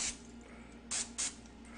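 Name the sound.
cooking spray sprayed on a cutter for Rice Krispie treats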